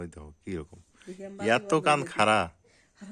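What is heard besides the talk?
None of the usual background noises is heard.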